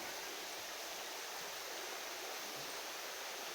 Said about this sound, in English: so I can get closer to the river. Can you hear that?